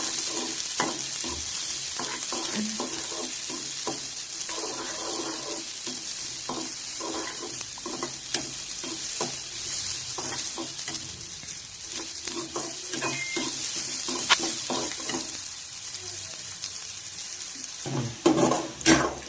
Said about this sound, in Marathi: त्याच्यानंतर आपण कांदा ॲड करणार आहोत त्याच्यामध्ये. कांदा थोडासा लालसर भाजून घ्यायचा.